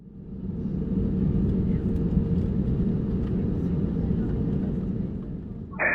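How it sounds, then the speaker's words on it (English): Jetstar passenger jet taking off from Avalon, heard from inside as a steady loud low engine roar and rumble that holds throughout, with no talk. "Now please enjoy this unedited takeoff."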